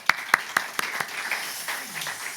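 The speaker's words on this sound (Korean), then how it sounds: "우리 주님께 다시 한번 전심으로 진심으로 감사의 박수 올려드리십시다" A church congregation claps at a harvest thanksgiving Sunday service, starting with a few sharp, spaced claps that blur into lighter, thinning applause before fading.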